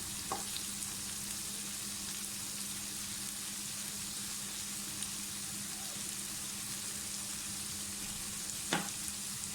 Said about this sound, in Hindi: थोड़ा सा फ्राई करें और साथ ही इसमें आप ग्रीन चिली डाल दें